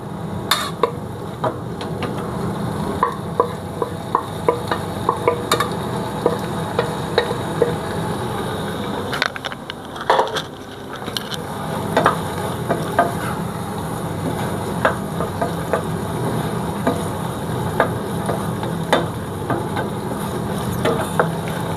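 Cucumber pieces cook in a pan for a Kerala vellarikka pachadi, with steady close sizzling and the scrape and clink of a spoon stirring throughout.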